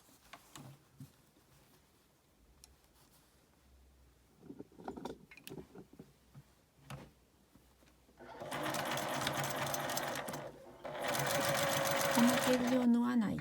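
A sewing machine stitches the pocket of a tote bag, starting after quiet handling of fabric with two sustained runs of rapid, buzzing stitching near the end, separated by a brief pause.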